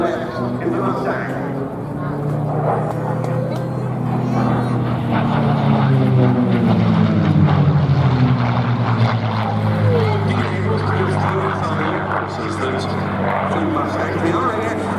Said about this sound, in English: Diving in spectacularly from the left in the Mustang.